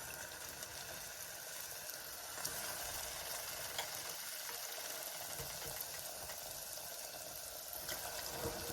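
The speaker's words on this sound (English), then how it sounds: "we're just gonna start frying them gently in the oil." A soft, steady sizzle of Jamaican fried dumplings frying gently in oil crackles continuously at low volume, with no voices over it.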